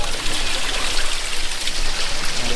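Water runs nonstop through a tapless village latrine, a steady, loud, close splashing and trickling rush that carries on with no pauses.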